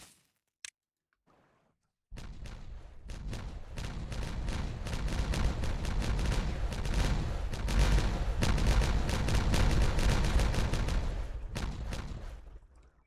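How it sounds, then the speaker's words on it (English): Demolition charges detonate in Timberborn, a beaver city-building game: after a brief click and a couple of tiny ticks, a loud, dense roar of blasts and rumbling debris sets in and runs for about ten seconds before easing off. No one speaks. "Going to detonate that now."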